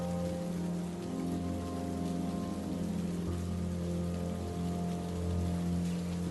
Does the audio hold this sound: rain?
yes